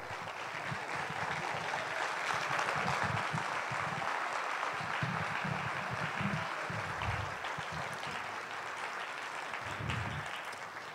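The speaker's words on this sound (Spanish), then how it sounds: "eso es su aplauso." Audience applause fills a theatre after a Christmas concert, a steady, dense wash of clapping that stays fairly faint and even throughout.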